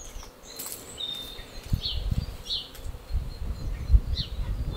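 Honeybees buzz around an open hive during frame work, a soft, steady hum with scattered louder buzzes as individual bees pass close, along with light handling knocks.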